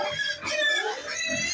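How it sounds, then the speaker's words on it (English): Pigs in a pen squeal and shout in shrill, overlapping high-pitched calls, close by and moderately loud throughout, with no talking. "How they are shouting in their pen."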